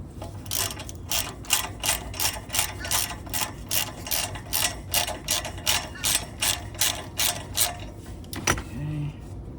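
A ratchet clicks in a fast, even run of about twenty sharp strokes while loosening an exhaust downpipe bolt on a BMW X3 F25 with the N55 engine, close and loud, ending with a metallic clunk.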